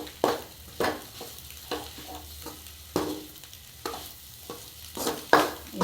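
Spice powder sizzles and fries in hot oil for an egg gravy while a utensil scrapes and stirs it in irregular strokes, close by.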